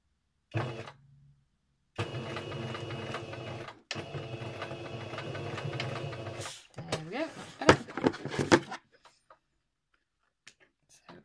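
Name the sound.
sewing machine going back over stitches to lock them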